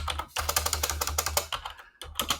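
Rapid typing on a computer keyboard, a quick close run of crisp clicks with brief pauses between bursts, alone and fairly quiet.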